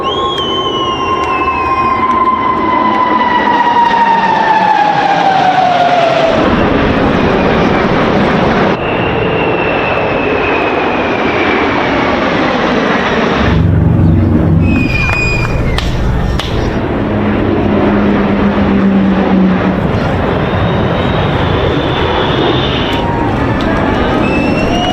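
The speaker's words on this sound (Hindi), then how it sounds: "न्यूयॉर्क में कैसे आसमान में अमेरिकी विमान गर्जना कर रहे हैं" American aircraft and helicopters roar overhead above New York during an Independence Day celebration flyover, a loud sustained engine drone that sweeps down in pitch as planes pass, with several successive passes across the scene.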